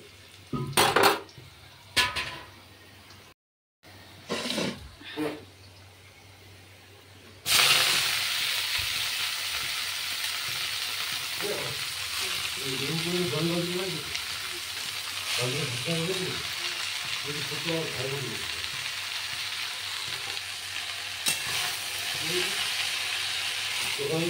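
Leafy greens (shak) sizzle and hiss steadily in a hot pan on a home stove, with a metal utensil scraping and clinking as they are stirred, after a few brief clatters of pots and dishes.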